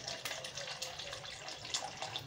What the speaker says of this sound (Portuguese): Vou pôr mais um pouquinho de água.